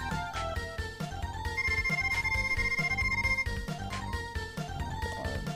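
Mega Man 7 video game text noise: rapid, bright, repeated electronic blips ticking in a quick rhythm over busy game music, fairly loud and continuous, with no talking.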